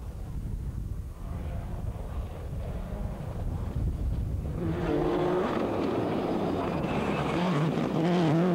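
A rally car passes on a stage of the West Cork Rally in 2003, its engine rising from a distant rumble to a loud, close roar with wind noise over the microphone.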